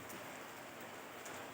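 Rain falls in a steady, soft wash of even hiss with no clear drops standing out, faint and continuous with no one speaking.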